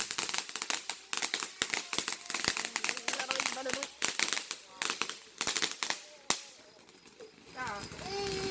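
Fireworks explode in rapid, irregular bursts of sharp cracks and pops, some close and loud, with voices talking and reacting in between the blasts.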